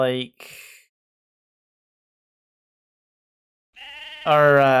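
Mountain sheep bleating in the online game Mabinogi, a short wavering bleat, a long silent gap, then louder bleats close by at the end.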